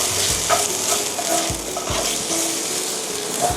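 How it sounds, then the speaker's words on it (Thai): Carrots stir-fried for mee sua sizzle steadily in a hot pan, with scraping stirs and occasional clinks of a utensil against the metal repeating throughout, close and fairly loud, no talking. "ถ้าเกิดมี การที่จะต้องผัดผักเนื้อแข็งแบบนี้นะคะ"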